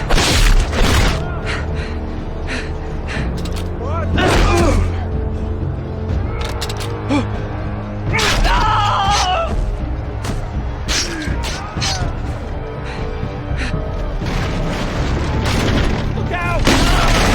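Gunfire and booming explosions in the Game of Thrones Telltale video game, loud and dense battle noise with repeated blasts and shots throughout, under shouting voices.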